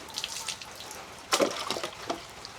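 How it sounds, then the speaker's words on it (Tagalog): Water flowing through a dug channel on a small farm, a soft intermittent trickle with a brief louder splashing burst midway, heard fairly close and alone. "Ayan yung tubig natin."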